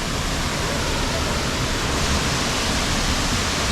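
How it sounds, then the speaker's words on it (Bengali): Waterfall in Wales pouring down into its plunge pool, a dense, constant roaring hiss filling the whole clip, close and loud with no breaks, faint voices buried beneath. "একদম ঝর্ণার যেখানে আইসা ঝর্ণাটা পড়তেছে গড়ায় আমরা এখানে চলে আসছি"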